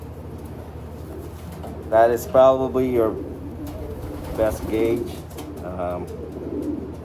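Racing pigeons coo in a loft during pairing. The coos are throaty and rolling and come in a few bursts near the mic, with someone talking throughout.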